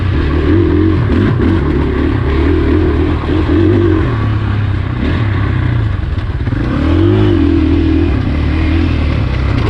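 A 2020 KTM 500 XCF-W four-stroke dirt bike is ridden on single track at Crow Canyon, its engine droning loudly and steadily and swelling in pitch as it revs, mixed with rumble and clatter.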